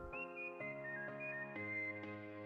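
A person whistles a short melody of clear, sustained pure tones in about five distinct notes, close and steady with no talking.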